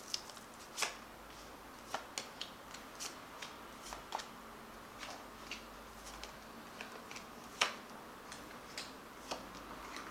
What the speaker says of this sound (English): I'm just going to shuffle these cards and cut them.